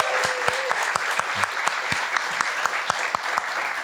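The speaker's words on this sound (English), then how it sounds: "Let's give Alicia another big round of applause." An audience claps steadily after a storytelling performance at a yarn-sharing event, a sustained round of applause with no talk over it.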